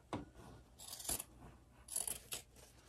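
Scissors trim excess fabric from a sewn reusable shopping bag, making faint, close snipping and crisp cutting sounds in a few short bursts.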